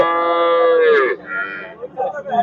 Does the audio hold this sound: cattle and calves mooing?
yes